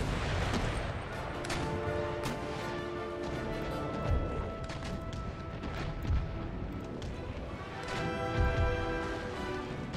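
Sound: ship broadsides firing chain shot, Empire Total War video game

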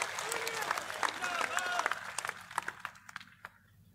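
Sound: crowd applause welcoming a speaker at a rally

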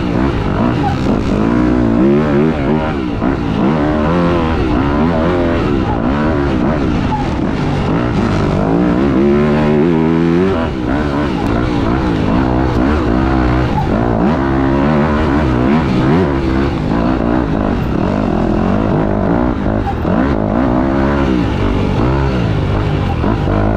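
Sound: motocross bike engine revving

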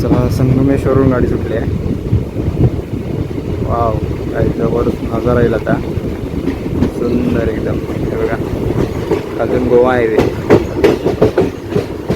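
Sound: Mangalore train running

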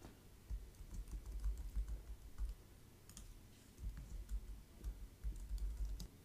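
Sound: typing a playlist description on a computer keyboard

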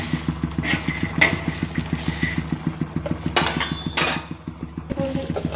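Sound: stirring peanuts roasting in a pan

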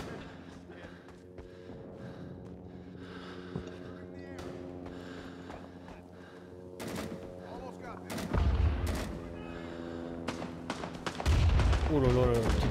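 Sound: grenade and gunfire in Rising Storm 2: Vietnam video game

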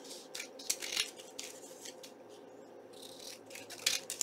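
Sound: trimming out a paper hanger tag

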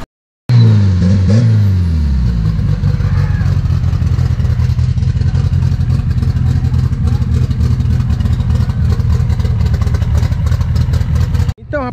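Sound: prepared drag racing car launching at practice

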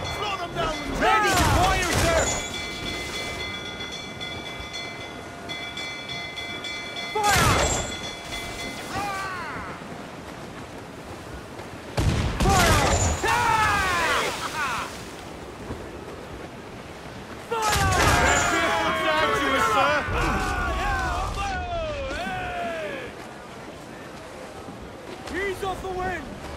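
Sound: ship cannons firing in the video game Assassin's Creed IV Black Flag

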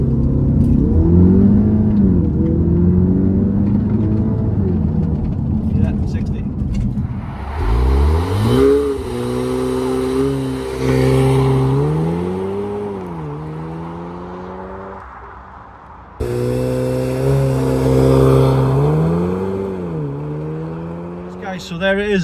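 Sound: MK3 Audi TT launch control revving and accelerating

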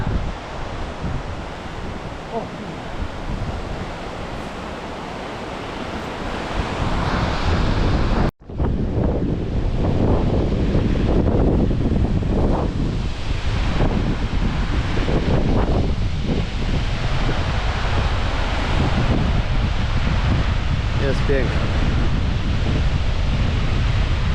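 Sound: strong wind outdoors

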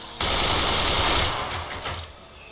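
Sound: machine gun firing in Forts video game

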